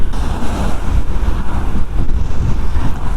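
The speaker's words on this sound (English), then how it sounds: "there's a little bit of wind today" Blustery wind buffets the microphone in uneven gusts while riding a Honda CT125 motorcycle in Oxfordshire, a loud low rumbling roar that rises and falls without pause.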